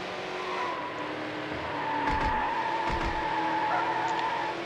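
Race cars in Need For Speed Hot Pursuit 2 roar steadily with a sustained engine drone, and tires squeal and skid briefly partway through, with no talking.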